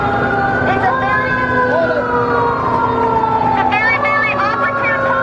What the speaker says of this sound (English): I'm going to wait for 1 second while the siren passes.